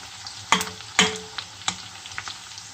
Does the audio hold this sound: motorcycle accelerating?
no